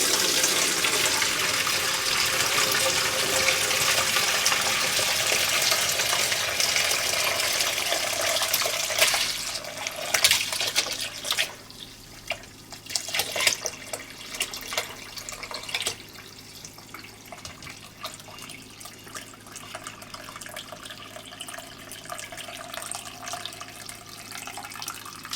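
Homemade bone broth poured from a pot through a colander into another pot, a steady loud gush of liquid that thins out into lighter splashing and trickling toward the end.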